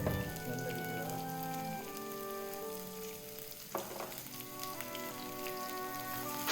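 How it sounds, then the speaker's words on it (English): Chopped onion and green chilies frying in hot oil with curry leaves and whole spices, a steady close crackling sizzle with popping spatters that continues without pause and has one brief louder clatter midway. "Fry onion until it turns brown"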